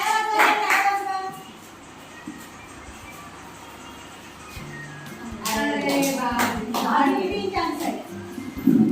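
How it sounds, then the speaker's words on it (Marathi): People clap to encourage participants at a senior citizens' day gathering in a home for the elderly, in short bursts of scattered hand claps mixed with lively voices talking nearby. "त्यांना टाळ्या वाजून एनकरेज करा"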